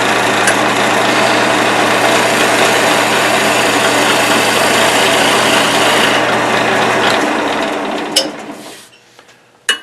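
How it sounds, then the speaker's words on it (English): A skew chisel cuts wood on a lathe, a loud continuous rasping, scraping hiss over a steady motor hum for about eight seconds before winding down, followed by a few faint clicks. "Okay, I'm a lot more comfortable with that skew cut."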